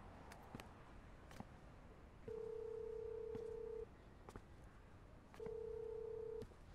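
Telephone dialing indoors: faint key clicks and two long, steady dial tones that start and stop at a moderate volume in an otherwise quiet room.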